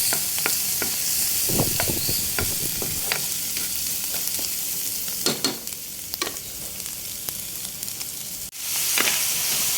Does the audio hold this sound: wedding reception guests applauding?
no